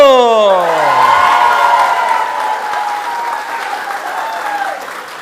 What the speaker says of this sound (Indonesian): Sekali lagi tepuk tangan untuk Theo.